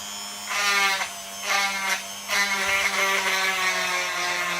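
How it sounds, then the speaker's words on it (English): An Ozito rotary tool grinds an action cam clip with a high whining buzz that rises in several short bursts as the bit bites into the workpiece, over a constant motor hum. "And we'll just grind along the top as well."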